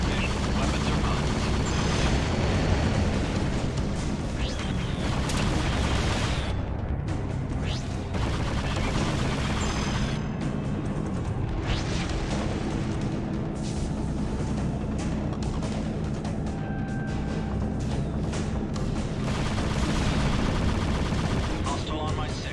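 Space combat in Freelancer (2003): continuous rapid gunfire and missile explosions crackle and boom throughout, dense and loud, with radio-style voice callouts cutting in over the battle.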